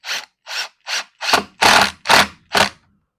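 Short screws being driven into a Kwikset Balboa SmartKey lock: seven close, loud bursts of scraping and grinding, evenly spaced, growing longer and heavier toward the end, with no talk over them.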